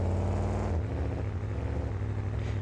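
Tail Gator monster truck engine in the BeamNG Monster Jam game, a loud, steady low rumble with harmonic drone that drops in pitch partway through and holds on, no voices over it.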